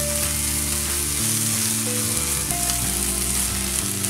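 Shrimp shells frying in a pan, a steady close sizzle with faint stirring scrapes under a background hum of tonal sound, no talk.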